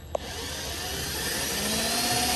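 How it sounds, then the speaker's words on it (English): Steady whirring drone of a power drill running continuously and building slightly while installing a carbon fiber side skirt on a C7 Corvette, preceded by a brief click, close by with no speech. "now I'm gonna drill."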